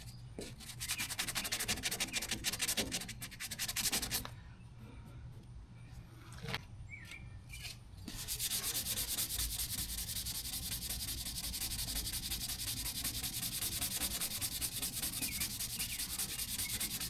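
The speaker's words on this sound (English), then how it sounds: "We're just going to sand off what we're sanding" Rapid back-and-forth hand sanding of a car body's rust repair with sandpaper, close and steady, with a brief pause midway before the scraping strokes resume.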